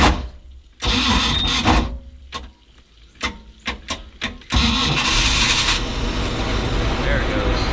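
A Glastron-Carlson CVX23 boat engine with a poor battery connection cranks in several short bursts, stutters, then catches and settles into a steady running roar, with a person speaking nearby.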